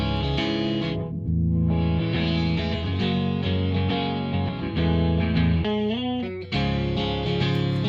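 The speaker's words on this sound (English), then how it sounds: "let's hear the low pass and see what that does." Distorted metal guitar riffs played through a low-pass filter EQ, dense chugging power chords with the high end rolled off, continuous and loud with a brief gap and a sliding bend near the end.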